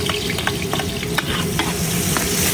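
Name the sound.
stir-frying freshly picked vegetables with garlic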